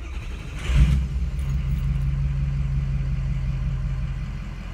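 A Ford car engine cranks with a short rough burst, then settles into a steady, loud, low idle rumble that holds evenly close to the microphone.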